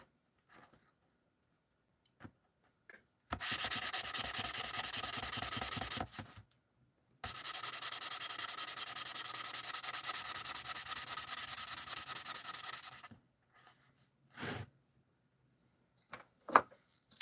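Wet sanding by hand: two long stretches of steady, close, gritty rubbing strokes separated by a short pause, followed by a few brief scrapes and taps, with no talk.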